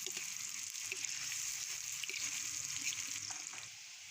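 Chopped large onion sizzling in hot oil and ghee in a pan, a steady broadband frying hiss lasting throughout with faint scattered crackles, close and moderately loud, no talking.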